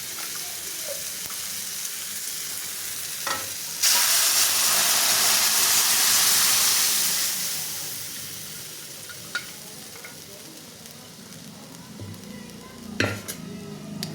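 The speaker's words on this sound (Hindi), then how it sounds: "अब इसे हम दाल डाल देंगे" Dal is poured into a pan of softened, cooked-down tomatoes. A loud burst of sizzling and steamy hiss swells, then slowly fades into a gentle simmer, with a few clinks of stirring and no talking.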